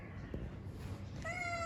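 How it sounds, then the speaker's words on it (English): A ginger cat gives a short, clear meow near the end, close and alone over a steady outdoor background hum. "And this is a ginger cat."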